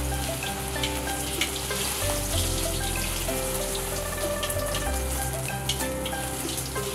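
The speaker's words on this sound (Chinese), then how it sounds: "油热后倒入鸡蛋" Beaten eggs hit hot oil in a wok for tomato and scrambled eggs, giving a steady close sizzle and crackle with small pops throughout and no talking.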